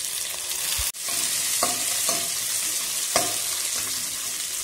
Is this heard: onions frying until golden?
yes